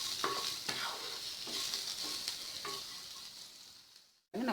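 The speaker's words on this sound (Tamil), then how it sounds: "நம்ம போட்ட கேப்சிகம் முட்டைக்கோஸ் கேரட் எல்லாம் போதுமான அளவுக்கு வதங்கிடுச்சு" Capsicum, cabbage and carrot stir-fry in a hot pan for egg noodles, a continuous sizzle broken by rhythmic spatula scrapes and tosses about every half second, close, ending with a brief cutoff.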